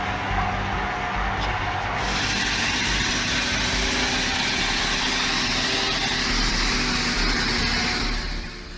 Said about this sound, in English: The engine roars as the multi-ton truck struggles for every inch.